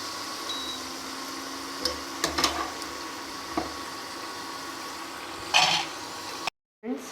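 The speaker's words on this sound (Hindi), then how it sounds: "हमारी अरवी तल रही है। इसको हमें लाइट ब्राउन तलना है।" Taro root (arbi) frying in hot oil gives a steady close sizzle and crackle, with a few louder bursts of bubbling. It cuts off abruptly near the end.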